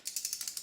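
A torque wrench ratchets an oil filter tight on a 2013 Land Rover LR4, giving a quick run of about seven crisp, evenly spaced clicks, close up and alone.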